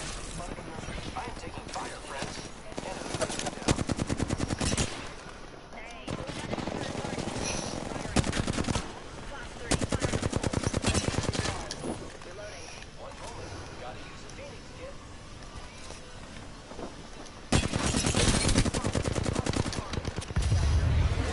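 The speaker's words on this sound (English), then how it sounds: "I am taking fire, friends." A fast Apex Legends match on Kings Canyon, with rapid automatic weapon fire coming in repeated loud bursts and short pauses between them, while a player talks over the shooting.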